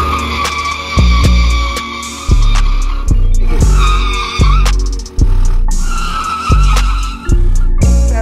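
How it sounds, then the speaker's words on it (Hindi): Rear tyre of a bike spun in a park, giving repeated loud squealing skids in bursts about every second, with a steady motor drone underneath, close and harsh, no talking. "देखो इसका पीछे वाला टायर घुमाऊंगा"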